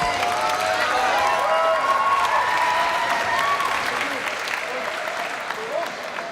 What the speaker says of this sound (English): Armen and Past cheering their teammate on from the corner there